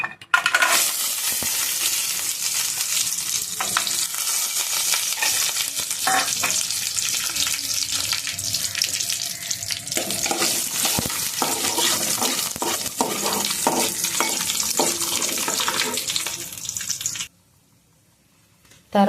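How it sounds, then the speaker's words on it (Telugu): Cashews fry in ghee in a kadai with a loud, close, steady hiss and crackle broken by frequent pops and occasional stirring scrapes, running continuously before cutting abruptly to near silence near the end. "ఇందులో మనము జీడిపప్పులు వేపుకుందాం ఫస్ట్"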